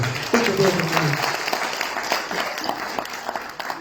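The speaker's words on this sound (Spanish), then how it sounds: "Con un fuerte de aplauso a nuestro doctor Rafael Bautista" Audience clapping welcomes Dr. Rafael Bautista at a book presentation at UPEA in El Alto, Bolivia; a steady patter of applause with a voice talking over the start, tapering slightly toward the end.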